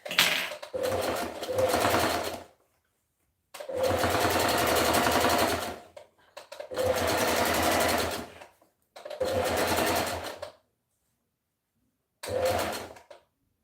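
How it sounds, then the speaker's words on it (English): A sewing machine stitches a dress in five separate runs of fast, rattling mechanical whirring, each lasting one to two seconds with silent pauses between, close and clear and with no talking. "Okay, I'm gonna stitch like I said, 0 to 5."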